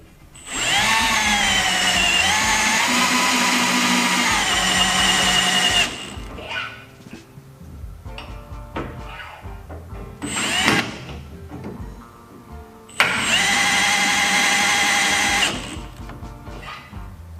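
A power driver spins thread-forming screws coated in anti-seize into roof rack extrusions on a Jeep Gladiator, giving three loud whining bursts of several seconds each, with quieter clicks and handling noises in the gaps.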